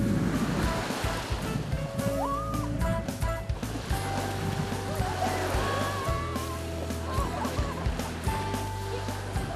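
Ocean waves wash steadily onto the shore at a seaside near a guesthouse, a continuous rushing surf with faint tonal sounds drifting above it and no talk.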